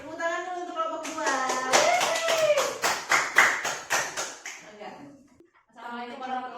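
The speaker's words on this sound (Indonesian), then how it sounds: "Tepuk tangan dulu untuk kelompok dua." A short burst of clapping from a small group, quick and uneven, mixed with a voice before and after.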